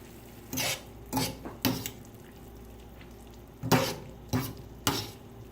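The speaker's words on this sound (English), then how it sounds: "And mix. We want to coat the noodles in the sauce." Linguine noodles are tossed and stirred through white clam sauce in a pan, making six separate scraping, clattering strokes in two groups of three, each short and close.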